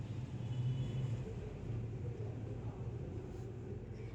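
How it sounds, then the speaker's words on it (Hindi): Steady low traffic rumble from outside, a constant drone of passing vehicles with no voices. "बाहर की आवाज़ आ रही होगी, गाड़ियों की आवाज़ हॉर्न की आ रही होगी"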